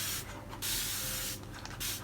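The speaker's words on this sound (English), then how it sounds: "we're going to get a spray bottle, spray all over your paper." A spray bottle mists water over sketchbook paper in repeated bursts of close, loud hiss with brief pauses between squirts.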